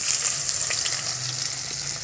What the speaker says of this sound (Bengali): শুকনো লঙ্কা তেজপাতাটা খুব ভালো করে ভেজে নেব।